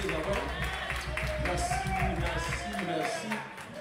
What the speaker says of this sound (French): Applaudissez le Seigneur, applaudissez le Seigneur, mes frères.